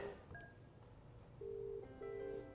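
A Cisco desk phone plays soft key beeps and then two sustained dialing tones separated by a short gap, clean and moderately quiet, with no speech.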